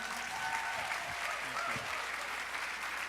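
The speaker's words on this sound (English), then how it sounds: "Another round of applause for Dr." Applause from an audience at a talk on Kangen water, steady and full across the whole moment, dense clapping throughout with a faint murmur of the crowd underneath.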